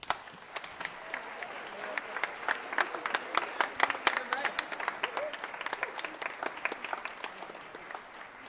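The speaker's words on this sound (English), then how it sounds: "we can give these 2 young musicians a round of applause for their great efforts" An audience at a 7th and 8th grade winter band concert applauds two young musicians, steady crowd clapping with some louder individual claps standing out throughout.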